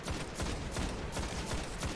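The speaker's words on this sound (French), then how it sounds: "Ah oui, il faut tirer dans leur portail." Rapid gunfire in the shooter game Destiny, aimed at enemy portals, forms a dense, steady burst of crackling shots that fills the whole moment at fairly even volume, with no voices.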